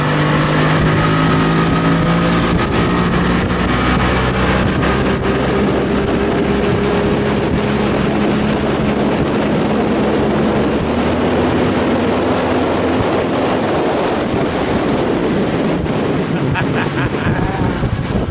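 An old outboard boat motor running steadily after a new fuel line was fitted, giving a loud continuous drone with some wind noise over it throughout.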